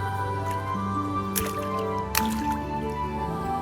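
Freshly picked antanan leaves are washed by hand in water, with steady dripping, squishing and trickling, a couple of sharper splashes, and a low steady background hum running throughout.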